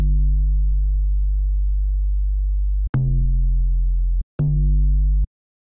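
A sub bass synth patch in Equator2, layered with added transient content for upper-frequency bite, plays three sustained deep notes: one long tone, then two shorter ones, each opening with a sharp, bright click attack. The notes are loud, clean and alone.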